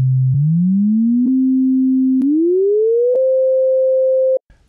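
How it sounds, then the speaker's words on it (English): A pure synthesized sine tone, loud and clean, climbs steadily in pitch from low to higher in gliding steps with brief plateaus and faint clicks, then cuts off abruptly near the end. "When the wave oscillates at a low frequency, we hear a low pitch, but as the frequency increases,"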